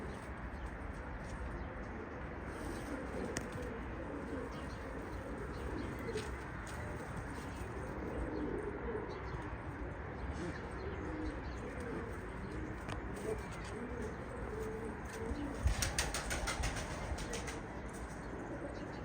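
Soft pigeon cooing murmurs continuously amid a noisy, rustling background, with a brief flutter of wings near the end.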